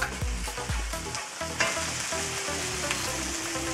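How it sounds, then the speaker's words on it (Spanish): Spinach filling with pâté, pepper, salt and nutmeg stirred in a pan over the heat for cannelloni, giving a steady close sizzle with scraping stir strokes throughout. "vamos a mezclar bien, bien mezclado acá mismo en el fuego 5 minutos"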